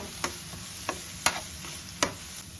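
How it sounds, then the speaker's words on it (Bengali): Chopped onion frying in butter in a pan, with a faint steady sizzle and a few light clicks of a utensil stirring at intervals, close and quiet. "এবার অনিয়নটা বেশ ভালোভাবে আমি একটু ভেজে নেব"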